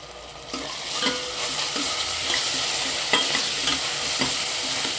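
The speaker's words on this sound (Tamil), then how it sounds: "இப்போ நம்ம இஞ்சி பூண்டு பேஸ்ட்டு போட்டுக்கலாம்" Ginger garlic paste frying with softened onions for a meal maker biryani, a loud continuous sizzle punctuated by repeated scraping stirs of a spoon against the pan, with no voices.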